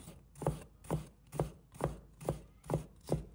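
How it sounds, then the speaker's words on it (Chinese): A knife shreds a piece of ginger into thin strips on a board: seven evenly spaced, crisp chops in a steady rhythm, close and fairly quiet, no voices. "一块生姜，把它切成细丝"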